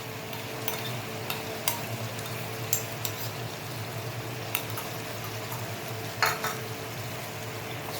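Spiced masala being stirred together with whipped sour curd in a pan for doi chingri, a steady soft scraping and gentle sizzle with a few sharper clinks of the spoon against the pan.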